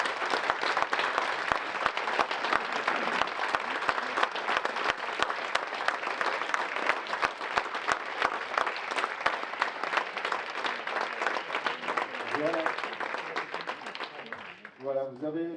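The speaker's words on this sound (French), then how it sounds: "C'est parti pour les applaudissements." Sustained applause from an audience filling a large hall, dense clapping for about fourteen seconds before fading out, with a voice beginning to speak in French at the very end.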